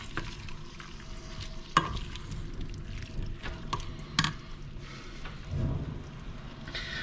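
Tomato and onion pasta sauce cooking in a pan, a faint, steady simmer and sizzle with a few soft clinks and stirring sounds.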